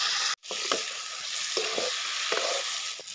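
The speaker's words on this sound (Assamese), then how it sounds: "খুব সুন্দৰকৈ মাংসখিনি ফ্ৰাই হ'ল এয়া তেল ওলাইছে মাংসৰ পৰা আৰু মাংসটো অকণমান ফুটিছে যেতিয়া অকণমান অকণমান শব্দ কৰে" Meat frying in oil in a pan, a steady broadband sizzle throughout with occasional soft stirring scrapes and small pops, one brief gap near the start.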